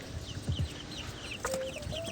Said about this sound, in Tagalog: tingnan naman natin to mga RIR na mga sisiw o Rhode Island Red